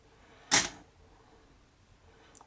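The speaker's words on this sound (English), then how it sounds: "So what I'm going to do is nip off a few with my scissors" Scissors snip once through feather fibres while a Black Pennel fly is tied: a single sharp, close crisp cut, with a faint small click near the end and otherwise quiet.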